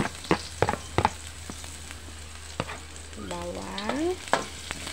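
Garlic hits a small amount of hot cooking oil in a pan for chicken liver adobo with ampalaya, with a soft steady sizzle under scattered sharp clinks and stirring scrapes, plus a brief rising squeak near the end.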